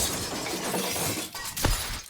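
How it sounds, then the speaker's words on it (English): Glass shatters in a fighting video game, a loud echoing crash with a sharp breaking burst near the end of a short, dense stretch of game sound, with no voices. "The echo of glass shattering is followed by a high-pitched yell"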